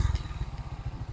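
A Motorstar Star X 125 motorcycle fitted with a new battery, harness and starter relay idles close by, a loud low single-cylinder putter pulsing in a fast, even rhythm with slight mechanical clatter.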